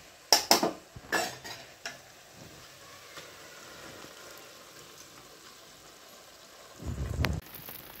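Spoon stirring and clinking in a pan as dal is added to fried spinach and green chili paste, a few sharp metallic knocks early, quiet sizzling between, then a brief louder scrape near the end.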